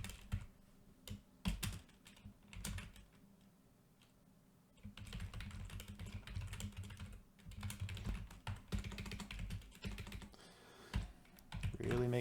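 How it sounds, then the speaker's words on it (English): Quiet clicking taps on a computer keyboard come in uneven bursts, with pauses between, faint and close, while some low background rumble continues. "Really makes typing difficult."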